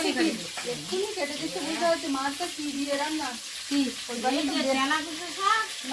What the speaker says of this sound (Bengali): এদিকে মাছ ভাজা হতে থাকুক